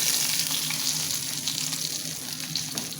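Spices tempering for a dahi baingan masala sizzle and crackle steadily in hot oil, a loud continuous hiss up close with no voices.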